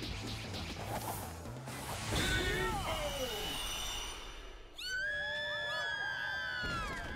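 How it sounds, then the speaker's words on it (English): A Street Fighter 4 fighter lets out wavering, high-pitched screams over crashing hits, whooshes and crowd-like game noise, with a loud drawn-out cry near the end. "The scream."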